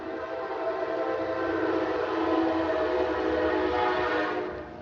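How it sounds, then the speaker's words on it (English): A loud train passes close by, a steady roaring rumble with sustained horn-like tones that swells and holds for several seconds, then fades slightly at the end. "you guys are about to hear how loud the train is."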